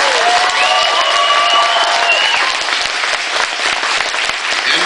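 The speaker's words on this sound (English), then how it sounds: "Alright guys, big round of applause" A convention crowd gives voice actor Gregg Berger a big round of applause, loud, sustained clapping from many people with a few faint cheers mixed in, filling the room evenly throughout.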